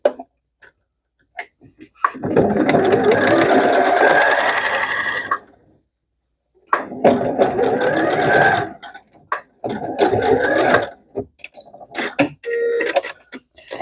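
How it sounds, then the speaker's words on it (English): A sewing machine runs a straight seam on fabric for a leprechaun hat, in three loud, steady bursts broken by short pauses, with tapping and handling clicks between the runs. "Now I'm going to sew right straight up from here all the way up here to make a straight line."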